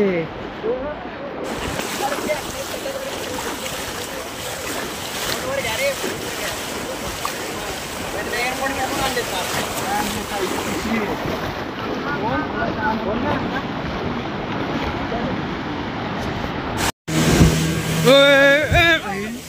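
A boat motors across water with steady engine drone, splashing waves and wind buffeting the microphone; people talk over the noise.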